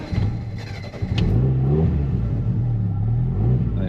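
A 1983 Lotus Turbo Esprit engine catches on choke, a brief cranking burst giving way to a loud, steady idle with rising and falling revs, close up and with no talking.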